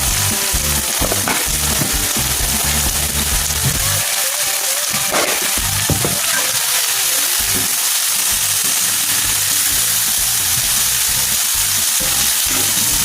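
Dumplings frying in a pan, a loud, continuous sizzle and crackle of hot oil with occasional pops and stirring sounds, no talking.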